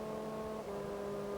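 Onboard engine of the number 76 Star Mazda race car at Mid-Ohio, a steady droning tone holding a near-constant pitch with a brief dip, heard from inside the car.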